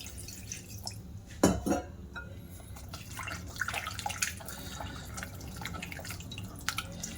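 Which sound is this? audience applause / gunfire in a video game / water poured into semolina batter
water poured into semolina batter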